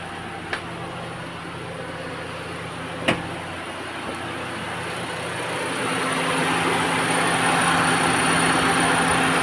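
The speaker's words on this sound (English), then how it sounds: "now, supposed to be when I press the auto button, okay, the motor is on." A Honda Stream RN6 condenser fan motor runs with the air conditioning on, a steady broadband whir that swells louder in the second half, with a couple of sharp clicks early on and no talking.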